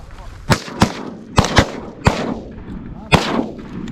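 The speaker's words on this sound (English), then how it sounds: "I was the first person to shoot." Shotgun blasts during a Pennsylvania goose hunt, six sharp reports in quick irregular succession over about three seconds, loud and close with short decaying tails, faint voices in the background.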